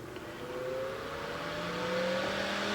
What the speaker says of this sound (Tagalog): Now motor is running again.